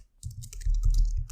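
Typing on a computer keyboard: a short burst of quick, soft key clicks entering a terminal command, close and fairly quiet, with no talking.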